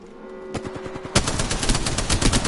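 Rapid bursts of automatic gunfire in the Apex Legends battle royale game, a faint tone first, then dense repeated shots that grow louder and continue steadily throughout.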